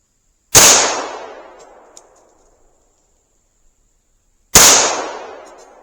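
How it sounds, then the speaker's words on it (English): Two loud gunshots are fired at a tree from about four yards, each a sharp crack with a long decaying echo, spaced about four seconds apart outdoors. "Two shots."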